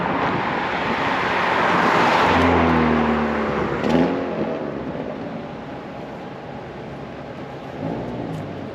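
A Hyundai Elantra N engine idles and revs briefly outdoors after an oil change, with a low rumbling exhaust note and steady wind noise over the microphone.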